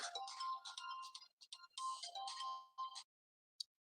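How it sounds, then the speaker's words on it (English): A phone ringtone plays loud and close in a repeating electronic melody of bright tones, cutting off abruptly near the end with one brief final blip. "Excuse me, I had a phone call"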